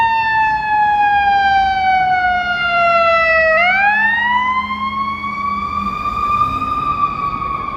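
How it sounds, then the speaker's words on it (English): An ambulance siren on Michigan Avenue in Chicago wails loudly and close, its long pitch sweep dropping, then climbing again as it passes on a busy city street, with no talk. "Here comes an ambulance, number 43."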